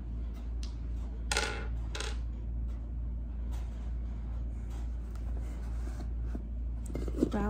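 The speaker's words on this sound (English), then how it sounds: "Dice." Dice clatter during a Pandemic board game, with several short, sharp rattling bursts of plastic dice tumbling across a hard surface against a steady low hum.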